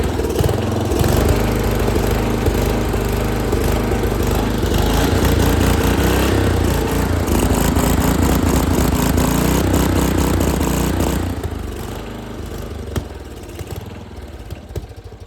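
Custom-built lawn mower engine running roughly and unevenly at close range, a loud continuous rattling drone for about eleven seconds before dropping sharply in level with a few sputters as it dies down.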